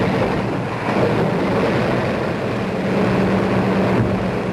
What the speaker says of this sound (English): Engines start.